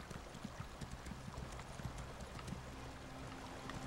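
Horse hooves clopping across a bridge in the Elder Scrolls Online game, a quick irregular run of faint knocks over a steady hiss of flowing water.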